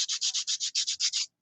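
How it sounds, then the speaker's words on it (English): A nail file scrapes under the tip of an artificial C-curve nail in eleven quick, even strokes, a close, crisp rasping rhythm that then stops, with no talking. "So I'm just gonna file under the nail right now."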